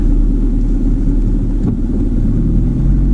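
A car rolling backward in neutral down a slope on a mountain road in Ladakh, heard as a loud, steady low rumble of tyres and road noise from inside the vehicle, with no clear engine revving.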